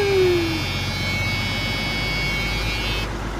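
The low air warning buzzer of an old Mack R-611T truck with a 6-250 diesel drones as a steady high tone over the idling engine rumble after a cold start, then cuts off abruptly near the end while the engine keeps running.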